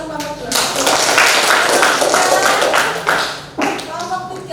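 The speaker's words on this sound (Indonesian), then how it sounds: "beri tepuk tangan untuk kelompok 2." A class applauds a student group, a loud, dense burst of many hands clapping up close that swells, holds for a few seconds, breaks off briefly, then picks up again.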